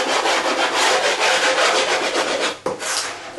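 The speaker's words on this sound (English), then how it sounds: "I got a little rasp here, and if you feel the edge, if you want to rasp off the edge" A little hand rasp files the edge of a wooden cabinet shelf in steady, loud, close strokes with a brief pause near the end.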